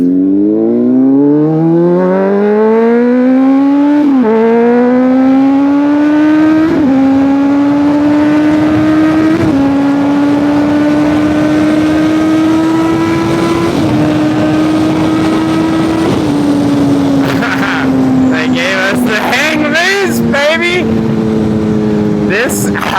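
A Honda CBR600RR with a cheap exhaust and no catalytic converter accelerates hard through several gear shifts, engine note climbing and dropping with each change, loud and close, with a voice talking over it near the end.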